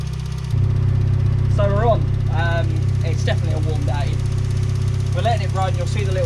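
A turbocharged Mazda MX-5 engine starts and then idles steadily and fairly close while being heat cycled after an exhaust blanket and wrap install, its drone running continuously beneath intermittent talking.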